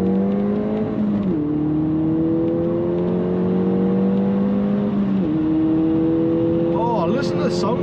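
Ford Fiesta ST200 pulls through the gears on a road, engine note climbing steadily in pitch, dropping at each shift and rising again, heard from inside the cabin with steady road noise underneath.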